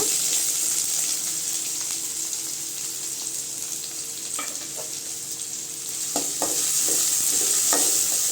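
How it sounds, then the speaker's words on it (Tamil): Onions with ginger and garlic sautéing in a pan, a continuous close sizzle with occasional spoon scrapes and clicks that thicken toward the end. "வெங்காயம் நல்லா வதங்கணுங்க"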